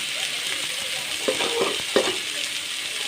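Capsicum sautéing in a pan, a steady broad sizzle with a few stirring clinks and scrapes partway through, close and continuous without talk.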